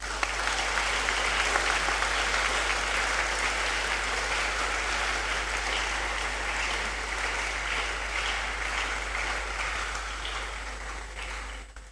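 A lecture audience at the University of Ghana breaks into sustained applause, a dense, even clatter of many hands that holds steady and then tapers slightly toward the end.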